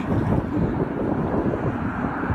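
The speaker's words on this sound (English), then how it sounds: "We have a good strong wind today." Strong wind buffets a marina around a Prestige 450 Flybridge yacht, with a steady, loud broadband roar and low rumble that keeps on without letup and no voices.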